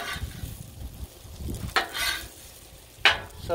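Pulled pork sears on a hot Blackstone griddle, a close, steady sizzle broken by two sharp metal scrapes of a spatula on the flat-top.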